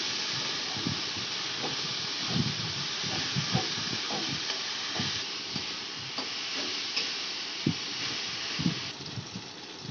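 Ginger and garlic paste sizzles and hisses steadily in a hot pan, with soft intermittent scrapes and knocks of a spoon stirring it, close and moderately quiet with no talking.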